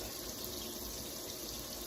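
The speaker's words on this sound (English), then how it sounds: "we're gonna get that hot water going." Hot water gushes steadily from a kitchen tap, a constant close hiss and splash with no pauses and no talking.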